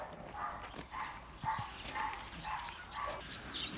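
A dog barks repeatedly in a steady series of short, moderately loud yaps, about one every half second, slightly distant.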